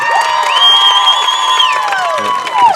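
A home crowd at a high school football game cheers loudly and steadily, with sustained shouts and whoops blending into a dense roar close by.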